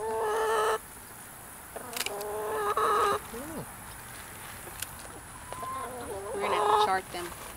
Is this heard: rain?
no